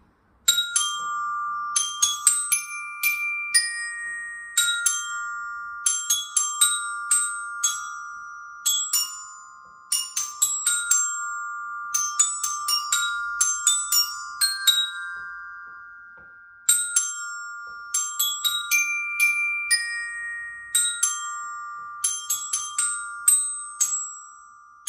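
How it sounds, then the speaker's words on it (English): The Colonel Bogey March played on orchestral percussion bells, a bright ringing melody of quick struck notes with long sustaining tones, clear and close, performed alone without any talk. "I'd like to play you a song on the bells called Colonel Bogey March."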